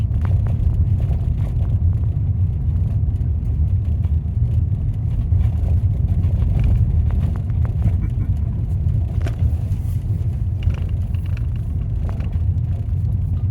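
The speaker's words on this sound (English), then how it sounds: "There's a car on this road." Car driving along a quiet rural road, a steady close engine rumble and tyre roar holding level throughout with faint knocks and rattles and no talk over it.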